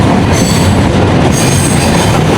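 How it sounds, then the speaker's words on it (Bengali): A 2900 series train passes on the adjacent track in Bangladesh, a loud, close, continuous roar of wheels and wagons with high metallic squeal riding on top. "ওই পাশে আরও একটা ট্রেন আসতেছে, যেটা 2900 সিরিজের"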